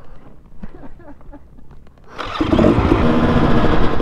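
A 2018 Husqvarna TX300 dirt bike on a trail starts with low chatter and faint ticking, then its engine bursts in loud and raspy about halfway through, revving hard and steady up close.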